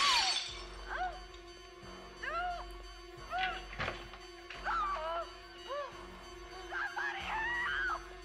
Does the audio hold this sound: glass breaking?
yes